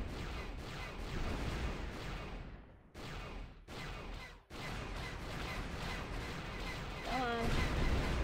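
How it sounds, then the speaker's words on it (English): Ship-shooting fire in the Knights of the Old Republic turret mini-game: dense, continuous blasting and rumbling explosions with a few abrupt cut-outs, loud and near, with a voice talking over it. "play a mini-game where you have to shoot a bunch of ships"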